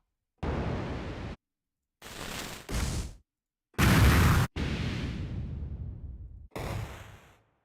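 Fire sound effects for an indie video game auditioned one after another: a series of separate roaring, crackling bursts with whooshing flare-ups and fading tails, each cut off by short silences.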